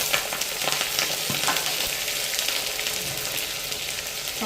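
Tomatoes and curry leaves sizzle steadily in hot oil for a South Indian chickpea kara kuzhambu, with occasional scraping stir clicks from a spoon against the pan throughout.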